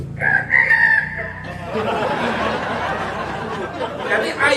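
Chickens crow and cluck, a rooster's call ringing out near the start. Free-range village hens and Bangkok-type fowl are heard over a crowd murmuring and someone talking at a rural wedding gathering.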